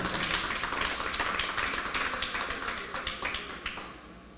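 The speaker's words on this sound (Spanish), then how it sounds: "Dele un aplauso al Señor" A church congregation claps together in a steady, rhythmic beat. The claps are loud and close, with no talking, and they taper off toward the end.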